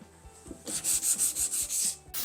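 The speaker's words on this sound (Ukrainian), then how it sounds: "Беремо шкірку 180 або 240 і проводимо проміжне шліфування" Varnished wood hand-sanded with 180 or 240 grit sandpaper during intermediate sanding between coats, a close series of about six rhythmic scratchy back-and-forth strokes after a brief quiet start.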